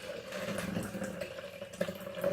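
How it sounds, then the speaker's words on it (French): Water poured into a plastic protein shaker, a continuous close trickle and splash with a rising gurgle as it fills. "Alors, on va mettre un peu d'eau."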